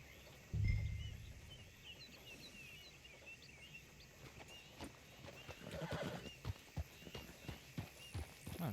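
A video game horse lets out a sharp whinny, then hooves clip-clop in a quickening rhythm amid faint birdsong, with rustling movement building toward the end.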